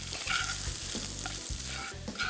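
Potato gnocchi tossed lightly with herbs in a hot pan, giving a steady close sizzle broken by repeated scraping stirs and soft clatters, with no talking.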